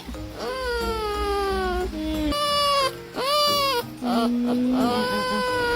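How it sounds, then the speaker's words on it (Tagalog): A giant bamboo rat gives drawn-out, baby-like crying wails in several rising and falling cries with short breaks, close and fairly loud, with background murmur beneath. "parang busis sanggol ang tunog ng dambuhalang dagang ito na parabang sumasagot sa babae"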